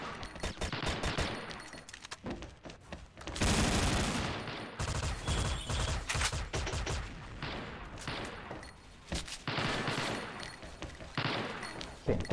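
Rapid gunfire in the XSHOT shooter crackles in repeated bursts and single shots, loud and close, with heavy sustained volleys in the middle and scattered shots around them.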